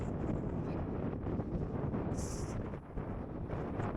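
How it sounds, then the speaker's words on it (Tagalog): Strong wind on a mountain trail blasts steadily into the microphone as a loud, continuous low rumble and buffeting, heard alone without talk. "Pero buti na lang mahangin, malakas yung hangin."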